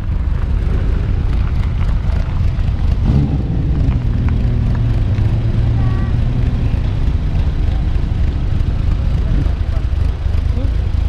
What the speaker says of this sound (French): Allez, une petite auto Bianchi qui passe.